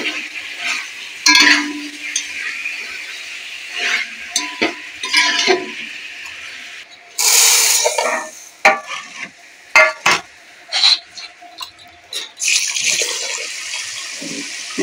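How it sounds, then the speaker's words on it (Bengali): Tomato and green chilies hit a pan of frying spices for biryani, setting off bursts of hissing sizzle between clattering stirs and scrapes of a spoon, loud and close with uneven pauses. "এবার টমেটোটা দিয়ে দেবো। কাঁচা লঙ্কা টমেটো একসাথে আমি দেবো।"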